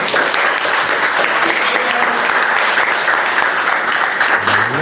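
An audience at a hackathon award announcement claps steadily for a third-place team, a dense, sustained round of applause filling the room.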